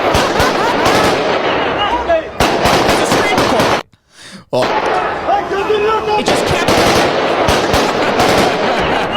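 Recorded gunfire from a terrorist attack playing through a phone website: loud, dense bursts of rapid automatic shots with one brief gap of near silence, while someone talks over the sound.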